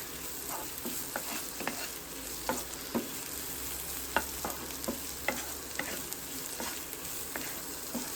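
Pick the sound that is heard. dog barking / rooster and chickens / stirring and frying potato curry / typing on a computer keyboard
stirring and frying potato curry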